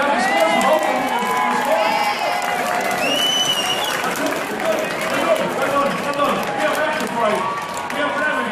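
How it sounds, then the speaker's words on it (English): Audience applause and cheering at a Malahide United Strictly Come Dancing charity dance show, a steady crowd roar of clapping with whistles and shouts running throughout. "can I give a round of applause?"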